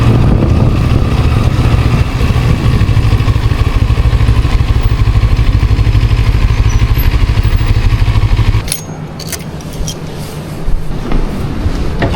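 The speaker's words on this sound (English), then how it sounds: "Jarvis, why you ride the Chinese motorcycle?" Steady engine rumble of a Chinese-made motorcycle running close by for most of the stretch, dropping off sharply near the end to quieter background noise.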